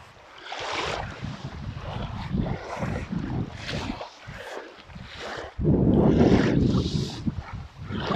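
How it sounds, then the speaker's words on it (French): Waves washing in and out with gusts of wind buffeting the microphone, surging louder toward the end. "je vous laisse apprécier le bruit des vagues"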